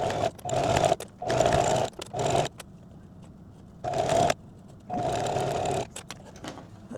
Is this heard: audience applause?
no